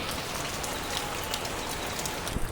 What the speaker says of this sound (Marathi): नुसता पाऊस आहे, नुसता पाऊस पडतो.